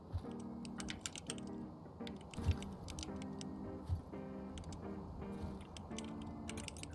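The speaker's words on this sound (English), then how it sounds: "I'm typing." Keys clatter steadily on a computer keyboard during a game session, a quiet close run of rapid clicks with a few heavier thumps, heard under a low tonal game hum with almost no talk.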